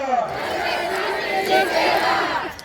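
Crowd at a Congress party political rally in Chhattisgarh chanting a slogan in unison, loud and close, voices swelling in rhythmic waves for a few seconds.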